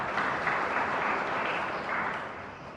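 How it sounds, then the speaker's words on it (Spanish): Steady applause from a church congregation in the Santa Rosa de Lima chapel in Ñemby during a live Mass, a dense wash of clapping that holds evenly throughout. "Fuerte aplauso para el Señor."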